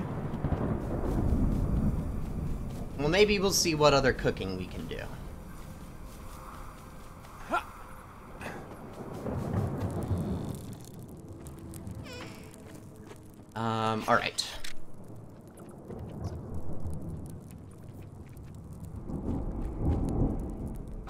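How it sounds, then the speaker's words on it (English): Thunderstorm in the survival game Smalland: steady rain hiss with low rumbles of thunder under someone talking, plus a few crackling bursts partway through. "Storm approaches, seek shelter."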